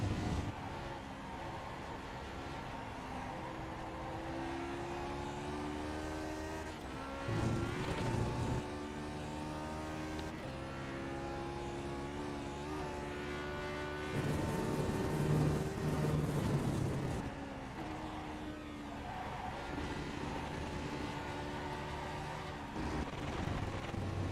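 A Lotus 49 race car in iRacing at Phillip Island, its engine droning steadily with rising pitch through each gear and sharp shifts at regular intervals, heard close and continuous throughout.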